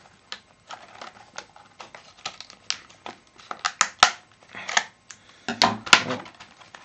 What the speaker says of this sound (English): I really hate these plastic bags,